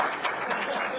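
An audience at a green building presentation event bursts into dense, sustained applause, many hands clapping together at an even, loud level with some voices mixed in.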